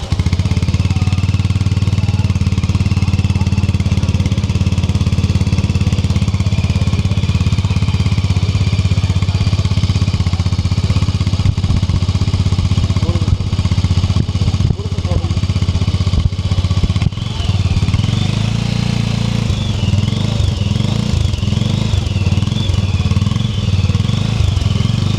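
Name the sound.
Sothassi 400 Classic 4-valve single-cylinder motorcycle engine running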